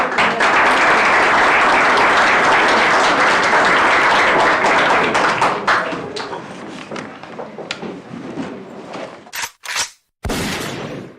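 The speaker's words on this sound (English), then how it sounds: "Can we also just give Jessica a hand of applause and thank you?" An audience at a memorial service breaks into loud, sustained applause that holds for about six seconds, then tapers into scattered claps with a few sharp bumps and knocks near the end.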